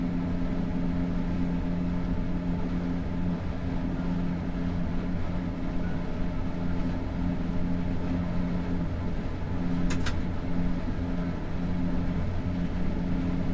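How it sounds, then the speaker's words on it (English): A train coasts downhill on the track with a steady, even low rumble and hum throughout, continuous and unbroken, with a brief faint click partway through. "I think we'll just let gravity take effect now with this train."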